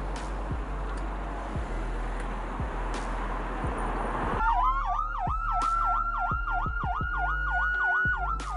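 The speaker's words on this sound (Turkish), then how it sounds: "mayoqchi o'rnatgansiz va ovoz chiqaruvchi sirena qurilmalarini o'rnatgansiz" Steady road and engine rumble from a Chevrolet Gentra car, then partway through an illegally installed siren starts up, a loud, fast wailing yelp that rises and falls repeatedly over the continuing traffic noise.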